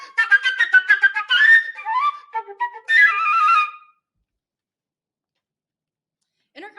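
A flute plays a passage: quick ascending scalar runs broken by a harsh trill, bright and close, followed by a pause and a brief final note.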